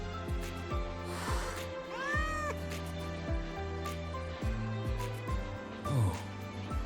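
A cat in Wuthering Waves meows repeatedly, a series of plaintive rising and falling cries close up over a steady musical backdrop, with little speech.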